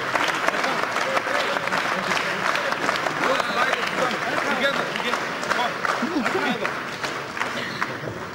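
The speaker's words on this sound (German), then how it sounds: "Und auch nochmal einen herzlichen Applaus für seinen Gegner" Sustained applause fills a boxing arena after the verdict in an EU title fight between Erkan Teper and his French opponent. Dense crowd clapping and murmuring hold steady at a fairly loud level with voices mixed in.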